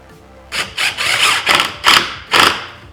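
A power drill drives screws into the wooden back panel of a sliding pot and pan organizer, heard as several loud, close bursts of whirring and grinding, each lasting a fraction of a second with short pauses between them.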